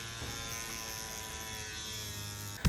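A cordless Dremel rotary tool grinds down the sleeves on a custom Star Wars themed Akedo Warriors figure, giving a steady, close electric whine and buzz that holds level throughout, with a brief louder knock right at the end.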